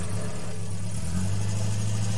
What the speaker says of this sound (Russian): Машина тронулась с места.